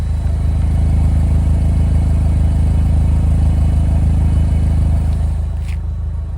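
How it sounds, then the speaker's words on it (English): A 2009 Saturn Sky Redline convertible with a 5-speed manual runs through its dual exhaust, one outlet on each side, giving a loud, steady, close low-pitched idle rumble that eases slightly near the end. "we can have a listen of the dual exhaust. There's a single exhaust on either side of the car."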